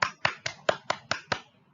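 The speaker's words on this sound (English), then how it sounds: "I want you to clap your hand first." Seven sharp, evenly spaced claps in a quick steady rhythm, close and clear with no voices, from a children's English class.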